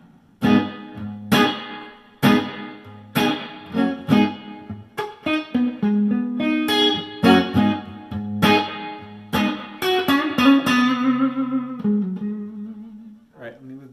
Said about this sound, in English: now I'm going to go to the hall reverb